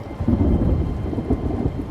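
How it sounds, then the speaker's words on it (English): A big storm rumbles with a heavy, continuous low roar of thunder, rain and wind, loud and close with no pauses across the short stretch. "It's a crazy big storm, okay? Maybe it's the wind."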